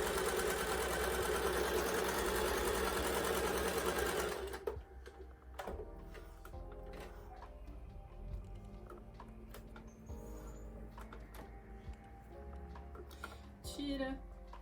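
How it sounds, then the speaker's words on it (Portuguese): A sewing machine stitching elastic onto fabric for a gathered crop top, a loud steady motor hum for a few seconds, then stopping, leaving quieter clicks and handling noises. "a gente vai ter que costurar a peça no direito"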